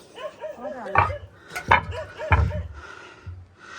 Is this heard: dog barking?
yes